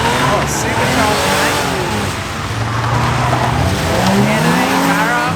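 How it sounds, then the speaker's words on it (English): Turbo LS SS Commodore engines roar and rev at a wet drift event, with loud tire squeal and skidding in long rising and falling tones, while people talk over the noise. "These guys got a bunch of turbo LS SS Commodore by the sounds of it"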